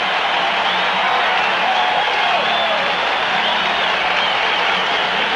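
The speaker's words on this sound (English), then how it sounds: "the Kansas City Chief defense has this crowd fired up" A stadium crowd at a 1984 Los Angeles Raiders at Kansas City Chiefs football game roars steadily and loudly, a sustained wash of cheering and noise that holds unbroken throughout.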